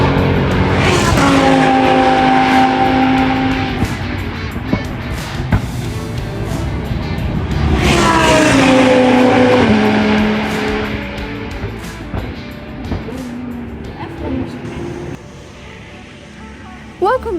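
Karts racing round the Village Circuit at Kart Silverstone in a junior sprint race, engines rising and falling in pitch as they pass close by, heard under steady talking throughout.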